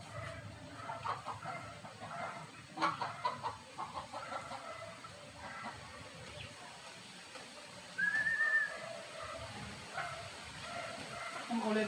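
Backyard chickens cluck and chatter at feeding time. Soft, scattered clucks come through steady outdoor noise, with a rooster-like call and a whistle-like squeak partway through.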